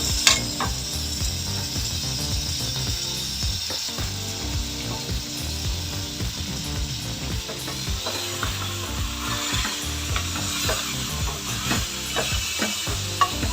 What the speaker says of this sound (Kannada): ಇದನ್ನು ಚೆನ್ನಾಗಿ ನಾವು ಸ್ವಲ್ಪ ಒಗ್ಗರಣೆಯಲ್ಲಿ ಹುರ್ಕೊಳ್ಳೋಣ